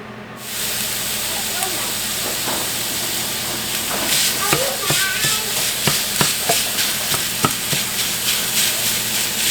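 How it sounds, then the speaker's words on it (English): Beef browning in a pan gives off a steady, loud hiss of sizzling, with spitting crackles and pops growing more frequent in the second half. "and then I'll start browning the beef."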